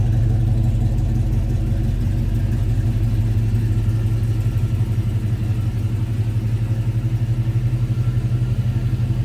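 A 1969 Chevrolet C10 pickup truck engine with a modern powertrain idles steadily and close up, a deep, continuous rumble with a faint rhythmic pulse, no speech.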